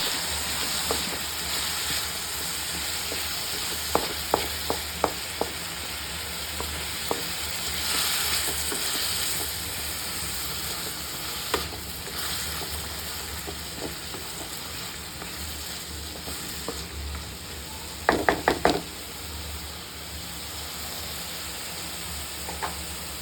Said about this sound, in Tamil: கொஞ்ச நேரம் இந்த ஆயிலே இது ஃப்ரை ஆகணும்.